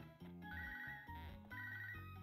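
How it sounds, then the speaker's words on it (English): A phone rings in a Pokémon game, a bright electronic ringtone melody that repeats in two phrases, clear and unbroken, with no talk over it. "Oh, there's a phone call from Boba."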